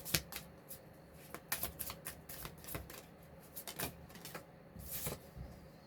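Oracle cards being shuffled and drawn make a quiet, close run of quick riffling flutters and soft snaps in irregular bursts, with no talk.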